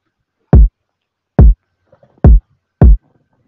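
Trap beat kick drum sample made in FL Studio, slightly boosted in level: four deep, punchy booming hits with quick decays, played alone in a loose rhythm with faint soft clicks between them.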